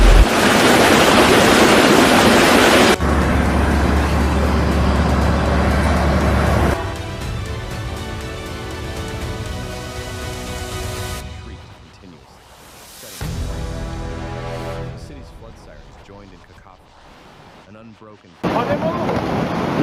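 Raging floodwater roaring through Dharali village in India during the August 2025 flood and landslide, a loud broad rushing roar mixed with background music and abrupt cuts in level.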